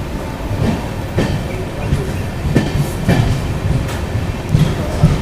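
Palnadu SF Express, running with LHB coaches, rolls along the rails near Sattenapalli at steady speed, with a continuous rumble and a regular clickety-clack from the wheels crossing rail joints about once a second.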